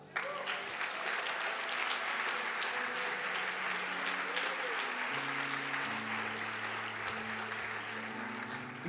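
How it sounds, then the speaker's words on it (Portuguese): Audience applause filling a church sermon hall, a steady, dense wash of clapping that carries on for about nine seconds at an even level. "Isso merece um aplauso, cara."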